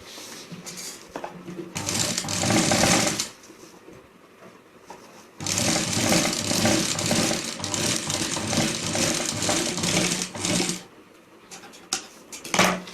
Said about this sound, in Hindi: इस तरह से रख के इसको ऐसे फोल्ड करके ऊपर टीचिंग ले लेनी है।